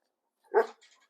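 A dog gives a single short, close bark during an obedience training session, then a faint trailing whine, with silence around it.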